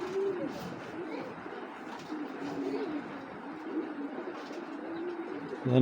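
Soft, low cooing of a racing pigeon repeats steadily throughout, close by, with a faint rustle at the end.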